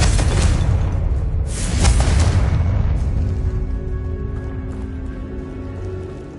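Confringo blasting spell in the Hogwarts Legacy video game erupts in a loud, deep explosion with a crackling burst, a second impact following, then a long rumbling decay into quiet.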